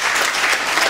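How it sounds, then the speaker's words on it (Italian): Theatre audience gives a brief burst of dense, loud applause at a triennial festival gathering, steady clapping filling the whole moment. "Un applauso."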